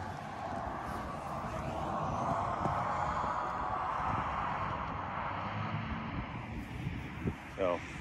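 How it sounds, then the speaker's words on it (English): Steady roar of car traffic passing on a nearby highway, a broad continuous rush that swells and fades slightly, with a brief louder whoosh near the end. "So sorry about the car noise."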